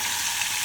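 Garlic and red chili fry in hot oil for a dhaba-style egg tadka, giving a steady, close bright sizzle that lasts the whole short moment.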